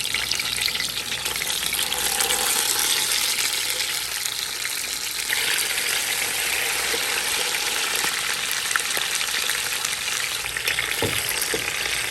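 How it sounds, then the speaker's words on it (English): Teal duck pieces browning in a hot pan give off a steady, loud, continuous sizzle and frying crackle that runs unbroken throughout, close up and with no talking. "We're going to brown the teal and then the sausage."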